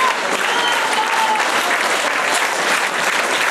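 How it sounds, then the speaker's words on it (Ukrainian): Festival audience in a city park applauding performers after a sing-along of a Ukrainian hit: dense, loud, sustained applause from a large crowd, continuous without pause from start to finish. "Глядачі фестивалю не переставали аплодувати виконавцям"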